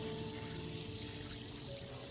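Cool water is poured in a steady, soft, continuous splash for a couple of seconds, faint against a quiet room with no talking.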